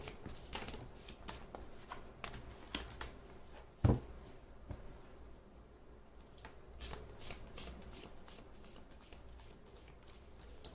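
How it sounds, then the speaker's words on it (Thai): Tarot cards being shuffled by hand at close range: soft, rapid riffling and flicking, quiet and continuous, with one sharper tap partway through. "ขออนุญาตสับไพ่เพื่อเปิดดวงให้กับชาวราศีมีนค่ะ"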